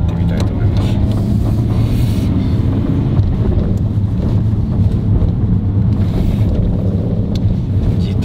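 A Nissan Skyline R33 GT-R with an RB26 engine heard from inside while driving, a loud continuous low engine and road rumble with wind buffeting, and no talk over it.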